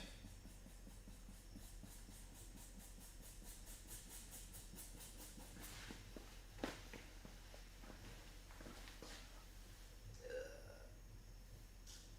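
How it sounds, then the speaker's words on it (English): Several burps from a man in a quiet room, some short and one more drawn out, fairly close and moderate in loudness, with no talk. "I can't stop burping"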